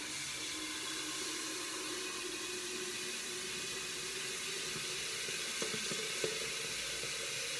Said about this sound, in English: And then I'm just going to fill it up with water.